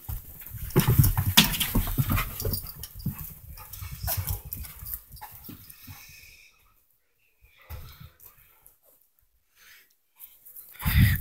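Two dogs fight, a loud, close scuffle of growls, snarls and thrashing for about six seconds, then near quiet with a few faint sounds before a sudden loud burst at the end.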